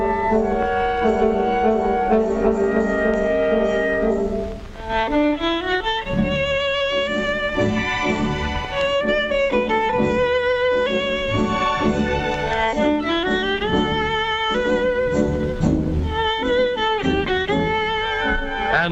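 A violinist plays a tune on his Stradivarius violin in a 1937 radio broadcast, a sustained singing melody with sliding notes over accompaniment, full and continuous for the whole passage.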